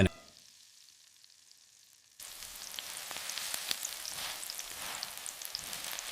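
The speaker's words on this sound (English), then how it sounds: "You will hear the sizzling intensify as the surface dries out and crisps further." Steady, crackling sizzle of a crispy potato cake frying in an uncovered pan, starting quiet and then jumping louder after a couple of seconds as the surface dries, holding there.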